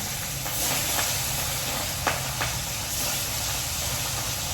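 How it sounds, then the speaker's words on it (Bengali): A steady, loud sizzling hiss of fish frying in hot oil in a kadai, with a few brief crackles and spits. "এবার মাছগুলোকে কড়াইতে দিয়ে দিই।"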